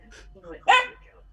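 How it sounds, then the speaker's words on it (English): A dog gives a single sharp bark indoors, close and loud, during a tabletop role-playing game session, with faint chatter from people before it. "is that a dog? That's a dog."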